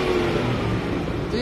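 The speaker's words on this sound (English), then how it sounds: "It is fast. 5-litre V8. Listen to that." A 5-litre V8 car engine revs loudly and steadily, a dense continuous roar filling the brief moment at close range.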